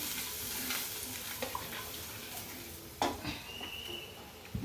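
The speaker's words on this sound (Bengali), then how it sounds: "দিয়ে এটাকে নাড়াচাড়া করি" Spices with turmeric and ginger powder being stirred in a frying pan for a mixed vegetable and prawn curry, a steady close sizzle with scraping utensil strokes and a few sharper clinks against the pan.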